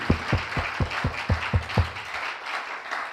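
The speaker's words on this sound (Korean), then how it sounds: "우리 크게 박수로 하나님 앞에 감사의 박수 올려드리겠습니다" A church congregation claps after a worship festival, with about seven strong rhythmic claps in unison at a steady beat that then fade into softer scattered applause.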